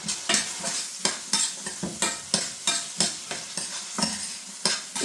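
Noodles tossed in a hot pan with homemade chilli flakes, a rhythmic series of spatula scrapes and stirs roughly twice a second over a soft frying sizzle, close and clear.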